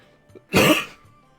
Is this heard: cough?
yes